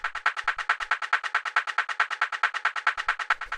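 Hardtechno percussive roll built from two small samples, a fast, evenly spaced stream of bright, snappy hits repeating at a steady rapid rhythm, loud and dry with no voices.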